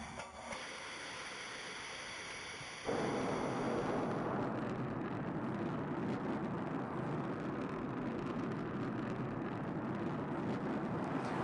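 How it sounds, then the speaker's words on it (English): A SpaceX test rocket about the size of a 12-story building blasts off, a steady roar that jumps abruptly louder and broadens into a sustained, dense rumble that fills the rest of the span, with no voices. "You've never seen this before, a rocket blasting off"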